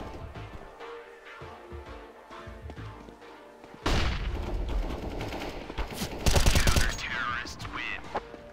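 Counter-Strike gunfire bursts out loudly after a quieter stretch of game ambience, with rapid automatic shots and body-shot volleys continuing through the second half, peaking in a dense flurry near the end.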